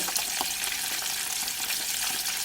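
Capelin fish deep frying in hot oil in a pan, giving a dense, steady crackling sizzle with fine popping bursts, close and continuous with no voices.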